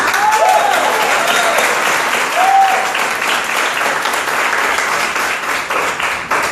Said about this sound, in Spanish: ¿Le pueden dar un aplauso?